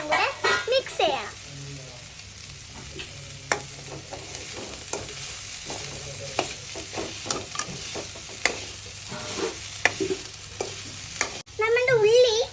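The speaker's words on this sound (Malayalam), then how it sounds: "അതിന് നമ്മൾ ഉള്ളി, മുളക്, തക്കാളി, കറിവേപ്പില എല്ലാം കൂടെ മിക്സ് ചെയ്യണം." Onion, chili, tomato and curry leaves fry in a pan for chicken curry while a spoon stirs in frequent scraping strokes, a soft sizzle beneath and a person talking over much of it.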